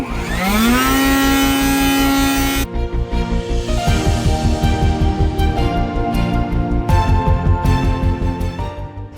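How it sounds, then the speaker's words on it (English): A small gas engine leaf blower clearing fall leaves revs up to a loud, steady whine, then drones on with pulsing throttle changes, close and unbroken. "I don't really get it with the blower. All it does is blow it around and it blows right back."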